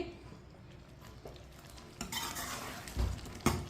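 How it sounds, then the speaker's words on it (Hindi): A spoon stirs white chickpeas frying in a pan, with soft scraping and clinks over a low, continuous sizzle, plus a few sharper knocks against the pan near the end. "एक मिनट के लिए इस तरह पका लेंगे चम्मच चलाते हुए।"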